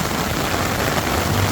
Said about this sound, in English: today is the first day with some proper rain